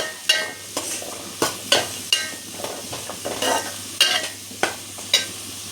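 Chili and onions are sautéed for a prawn roast, with a spatula knocking and scraping against the pan in a steady rhythm over a soft sizzle. The sounds are close and loud, and no one speaks.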